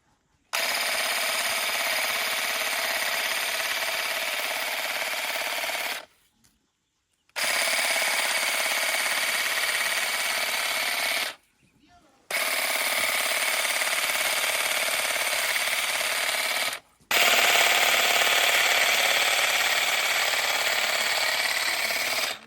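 Procraft hedge trimmer cutting a bush, loud buzzing bursts of several seconds each separated by brief pauses, close by with no talking.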